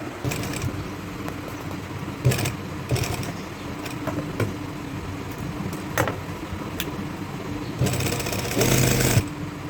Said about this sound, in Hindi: अब ट्राउज़र की स्टिचिंग करेंगे